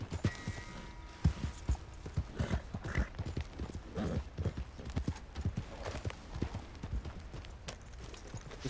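Horse hooves clip-clop in an uneven walking rhythm in Red Dead Redemption 2, close and fairly quiet, with a short whinny partway through and faint background game ambience.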